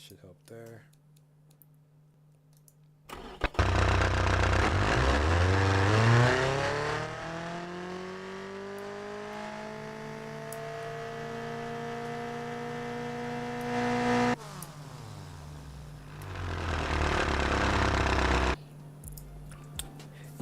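A Honda Civic build in the Automation car game cranks, catches and revs up under load, its engine note climbing steadily and holding loud for several seconds before dropping off and rising again.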